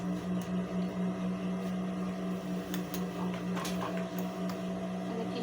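Sewing machine stitching a fabric cover for a baby car seat, running as a steady continuous hum with a regular rhythmic mechanical whir, close and moderately loud, with no speech.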